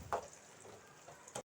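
Blended tomato puree sautés in a pan for a bitter gourd kuzhambu, a faint low sizzle broken by a couple of brief stirring clicks.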